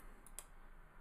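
Computer mouse buttons click while a photo is edited for laser engraving; a few quick, light clicks, two close together and one after a short pause, sound faint and near over a quiet background.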